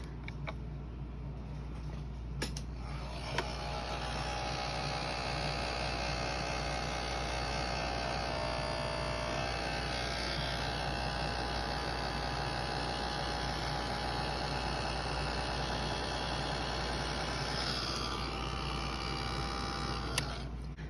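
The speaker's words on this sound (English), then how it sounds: "I'm going to quickly grab the Ranger heat tool and dry this off" A Ranger heat tool blows hot air to dry stamped ink on a craft project, giving a steady, close whirring rush that runs for about twenty seconds, bracketed by small clicks near the start and end.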